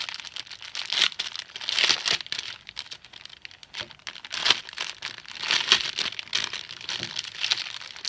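Plastic packaging of cross-stitch kits is crinkled and torn open in several short bursts of rustling, close and fairly quiet, with pauses between handlings.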